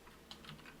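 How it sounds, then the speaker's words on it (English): Quiet clicking of a small computer keyboard, a few quick keystrokes tapped in a short burst with no one speaking. "Oh, I love my little tappy keyboard."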